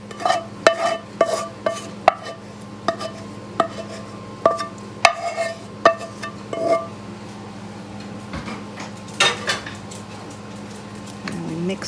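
Repeated clinks and scrapes of a utensil against a crock pot as onion and garlic bits are cleared out, a series of sharp metallic taps spaced irregularly over a low steady hum.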